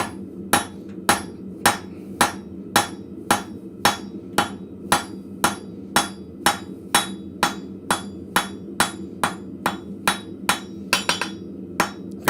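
A blacksmith hammers a square taper on hot steel, a regular run of about two dozen sharp, ringing metallic strikes at a steady, brisk pace, close and loud, with a low background hum.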